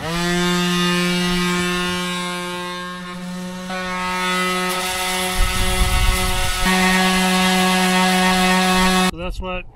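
Power sander grinding against a foundation wall, a loud continuous harmonic whine with a rough scraping layer that roughens as pressure shifts, close up, cut off abruptly near the end.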